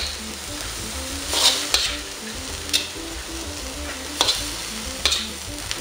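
Carrots stir-fried in a pan for a Pinoy-style bean sprout dish, steady sizzling broken by a handful of sharp spatula scrapes, with no talking.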